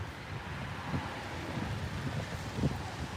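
Strong outdoor wind buffets the microphone in a steady low rumble with a few heavier gusts, no voices.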